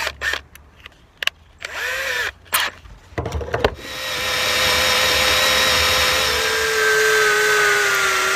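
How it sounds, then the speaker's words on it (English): A power drill fitted with a 5/32 bit bores a hole for a truck lock, starting with short stop-start trigger bursts, then running in one loud continuous whine to the end. "Now I'm just going to go up to a 5/32."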